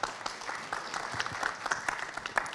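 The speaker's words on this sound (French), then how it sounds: "On l'applaudit, s'il vous plaît." Scattered audience applause at a business conference on entrepreneurship in Africa, with uneven, moderately faint hand claps from a modest crowd, some single claps popping out.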